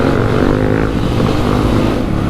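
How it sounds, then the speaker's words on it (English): A Yamaha Raptor ATV engine revs loud and close on a trail ride, a thick, droning roar with a steady pulsing rumble that holds without a break. "Wow, the Raptor is so loud"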